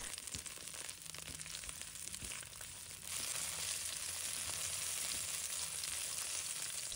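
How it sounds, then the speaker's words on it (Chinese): Minced garlic sizzles and fries in hot cooking oil in a wok, a steady close crackling hiss that grows louder and denser partway through. "烧热后加入蒜末，把它爆香，炒出蒜香味。"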